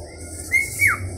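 A very young cockatiel lets out two quick, close chirps a moment apart, the second sliding downward, over a low background hum.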